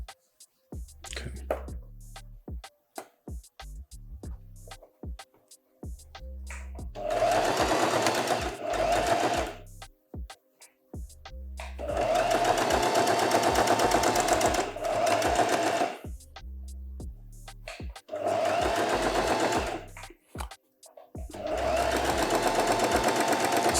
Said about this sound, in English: I'm purely relying upon the sound of the machine here.